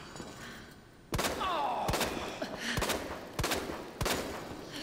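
Gunshots fired at an attacking enemy in the Resident Evil 2 Remake video game: five sharp, loud shots spaced roughly evenly about a second apart over a steady background din.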